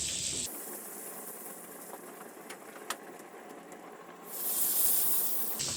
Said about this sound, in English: To the same saucepan, you're gonna add